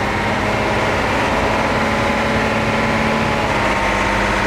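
A 1982 Rolls-Royce-engined fire pump truck, automatic with power steering, runs steadily nearby in a loud, constant low idle with a dense rumble and no voices.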